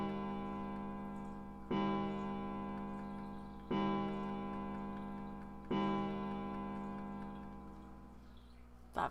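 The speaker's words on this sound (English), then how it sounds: "Somewhere he heard a bell ring. It was the clock at the central staircase." A clock at the central staircase in the video game 999 strikes three times, each evenly spaced bell chime ringing out and slowly decaying before the next, with no voices.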